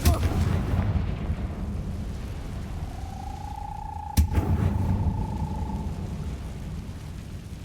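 Confringo blasting spell from the Hogwarts Legacy video game: a single sharp blast cracks out mid-clip over a steady low game rumble, with a rising whistling tone before it and no talk.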